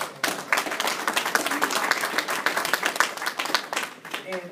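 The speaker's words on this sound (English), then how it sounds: "So I do like to ask that y'all give Dr. Jerome Harris a big round of" Audience applause at a community meeting debate, a sustained round of clapping that fills the whole stretch at a fairly steady level.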